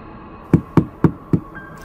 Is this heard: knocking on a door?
yes